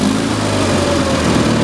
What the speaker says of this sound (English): Let's put the throttle all the way up and pull the cable off the choke, and we'll turn the ignition on down here as well too.